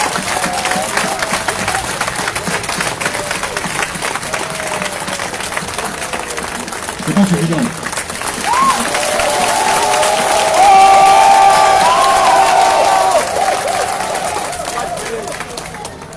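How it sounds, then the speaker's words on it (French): A political rally crowd at a liberty celebration breaks into sustained applause and cheering, swelling louder toward the middle, with a voice speaking briefly early on. "Permettez que nous leur réservions non pas une minute de silence, mais des applaudissements nourris pour que de nos clameurs sortent des chants de victoire."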